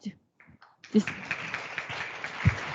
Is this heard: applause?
yes